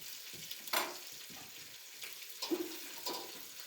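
Meat browning in a pan on the stove for Zuppa Toscana gives a soft, steady sizzle, with scattered clinks and scrapes from stirring and crumbling.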